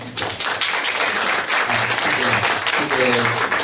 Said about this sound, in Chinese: 所以我们现在就以最热烈的掌声来欢迎我们郑老师今天的这个演讲